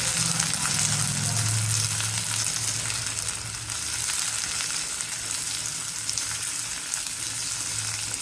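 Shallots, garlic and tamarind sautéing in sesame oil for hibiscus thokku, giving a constant close hiss of frying with occasional stirring movement, steady throughout and with no voices.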